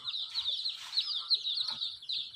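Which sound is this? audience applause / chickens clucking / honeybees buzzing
chickens clucking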